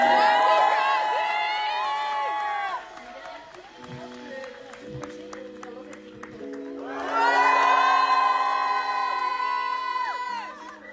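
An audience at a release-party concert cheers and applauds a musician in two loud, dense bursts of clapping, whoops and shouts, one at the start and one near the end, with quieter talk between.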